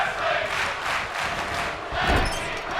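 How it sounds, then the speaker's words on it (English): A wrestling crowd at a tag team match cheers ecstatically, a sustained roar of voices with rising swells and a burst near the end, moderately loud and continuous. "The crowd going ecstatic here"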